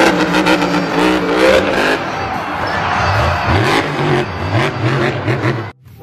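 A toy monster truck's engine sound revs loudly and continuously, with rising and falling whine and rumble, cutting off abruptly near the end.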